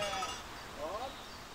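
Skudden, an old endangered German sheep breed, bleat faintly in a rural Black Forest setting, a short wavering call rising midway through steady outdoor background noise.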